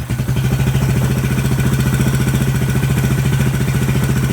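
A Suzuki quad runner engine, an old ATV found in a chook shed, idling loud and close with a steady rapid putter and no throttle applied.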